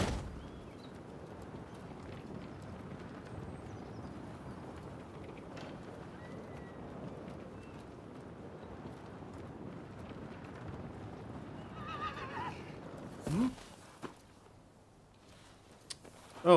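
Hoofbeats and movement of a horse in the video game Rise of the Ronin form a steady low clatter, with a louder burst near the end.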